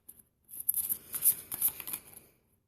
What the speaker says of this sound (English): just as I'm shuffling